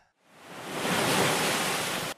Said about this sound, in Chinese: 广阔的大海